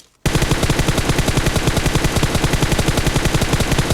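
Rapid automatic gunfire in a video game, a loud, dense, evenly spaced burst of shots that starts abruptly after a brief quiet moment and runs without pause to the end.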